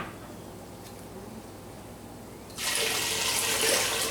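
Tap water runs into cans to measure liquid for a homemade Southern chili, a sudden loud rushing hiss that starts after a few quiet seconds and continues steadily.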